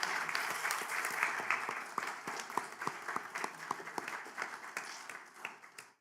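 A meeting audience applauds the teachers and education specialists of the year, with a moderate crowd of hands clapping at a moderate distance and individual claps standing out as the applause thins and fades over six seconds.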